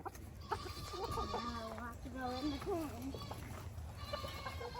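Goats bleat several times at close range in a farmyard, wavering calls in short bursts, with people and children talking faintly in the background.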